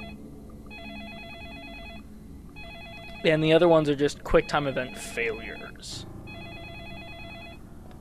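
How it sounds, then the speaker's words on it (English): An electronic telephone rings in repeated short bursts in the Deadly Premonition video game, someone talking over the middle of it while the ring pattern continues. "the phone's ringing"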